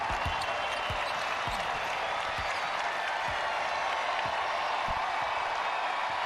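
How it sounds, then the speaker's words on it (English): A basketball being dribbled by UConn as the clock runs out on the Big East Championship against Georgetown at Mohegan Sun, steady regular bounces beneath a loud, constant capacity-crowd roar. "UConn can dribble it out"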